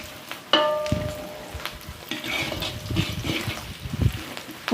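Onions frying in a pan: a close, steady sizzle broken by clinks of a metal spatula and scraping as the pan is stirred, with crackles rising and falling throughout.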